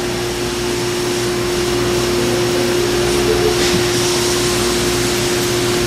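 A Haas VF-2 CNC vertical mill runs its daily warm-up program, a loud, steady whine with a strong constant tone over a mechanical hum, alone and unbroken throughout.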